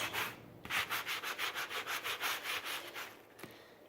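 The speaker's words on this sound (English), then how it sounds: "all I do is I take a sanding block and just run it along the edge" A sanding block rubbed along the edge of a decoupaged paper napkin on a coat hook hanger, trimming it: about a dozen steady, evenly spaced rasping strokes, close and clear, with no talking.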